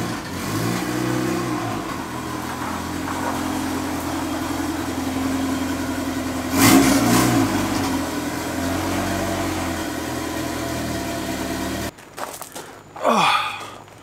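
A Honda car fitted with a K-Series engine runs on a stand in a workshop, a loud, steady engine drone with a brief surge near the middle, then cutting off abruptly and leaving faint rustles and clatter.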